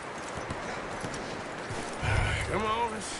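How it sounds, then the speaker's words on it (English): A horse's hooves clip-clop at a camp in Red Dead Redemption 2, a soft rhythmic patter that continues under a voice as he speaks. "You should really tether that horse, Arthur."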